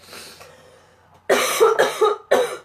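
A person coughs while suffering from a cold or flu: a faint rasp is followed by a loud, close cluster of three to four harsh coughs in quick succession.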